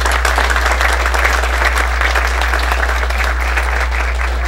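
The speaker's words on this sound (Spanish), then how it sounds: "vamos a recibir con un caluroso aplauso al ingeniero Herrera" Loud, dense applause from a large audience welcoming an engineer at a mining engineers' week event, a continuous wash of many hands clapping throughout, with a steady low hum beneath and no talk.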